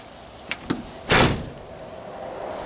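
A door on a 1988 Dodge Ramcharger, a latch that had needed a screwdriver to close, shuts with one solid, loud thud, preceded by two small metallic clicks and followed by quiet background hum.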